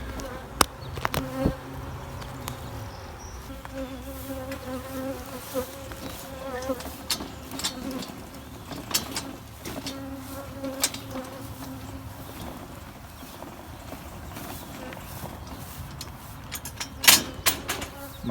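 Honeybees fill an overcrowded observation hive with a steady, close buzzing drone that runs throughout, with occasional clicks and knocks from handling the hive.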